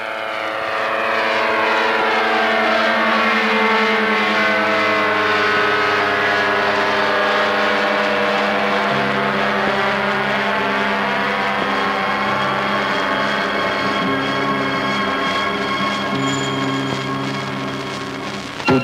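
Ultralight aircraft engine running steadily at high power during takeoff along a full-length jet runway over the Mediterranean coast, a loud continuous propeller drone with a stable pitch lasting throughout.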